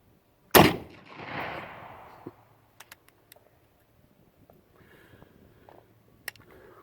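A single loud, sharp report from a CVA Deer Hunter muzzleloader rifle fired outdoors, followed by a short rolling echo and a few faint clicks and rustles.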